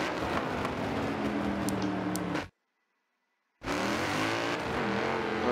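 Race car engines in an Xbox Forza online multiplayer race with simulation damage on, a Mustang among the cars; steady loud engine roar with revving and tire noise, cut by a second of silence before resuming.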